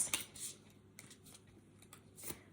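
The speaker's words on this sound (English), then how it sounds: "So let's have another shuffle and see what other card wants to come out" A deck of cards, presumably oracle or tarot cards, is shuffled quietly by hand, giving a few soft, short riffling bursts at close range in an otherwise quiet room.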